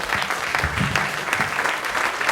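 An audience at a startup showcase claps for the presenting companies, a dense, continuous burst of applause from a room of people, fairly close and steady throughout.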